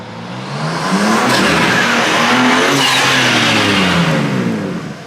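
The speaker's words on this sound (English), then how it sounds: "I can also hear more like burbles in the exhaust." BMW M4 Competition G82 engine revving in one long rise and fall, loud and close, with a rough crackling exhaust burble as the revs climb and settle, with no talk over it.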